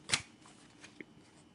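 A Rider-Waite-Smith tarot deck shuffled once in a quick, crisp riffle, followed by a couple of faint card taps in an otherwise quiet room.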